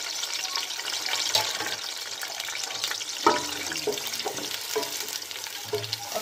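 Sliced onions go into hot oil for a mutton masala pilao, giving a soft, steady frying hiss with occasional clinks and stirring scrapes from the pan; no one speaks.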